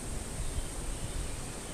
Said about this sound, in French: Vous entendez le vent, mais on est à l'abri. On l'entend de loin.